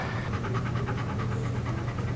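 A dog pants rapidly and rhythmically close by, quick breathy puffs repeating steadily against a low background rumble.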